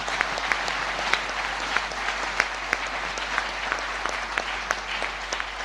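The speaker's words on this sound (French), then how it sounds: "Clap for Brother Zach." Steady applause from a church congregation clapping for Brother Zach, a dense, continuous wash of many hands with sharper individual claps popping through, moderately loud and sustained throughout.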